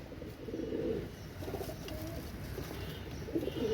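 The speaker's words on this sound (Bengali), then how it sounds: "এখানে কবুতরগুলো দেখেন" Male Pakistani Shaki and Royal pigeons coo softly nearby, with several low throaty coo phrases spaced across a quiet background.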